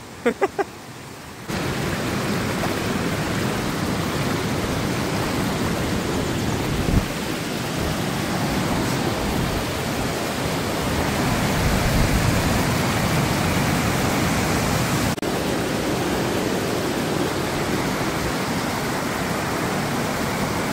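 A rushing waterfall in the Krkonoše mountains gives a steady, broadband roar that holds unbroken for about twenty seconds after a few brief knocks at the start, fairly close and alone, with no voices.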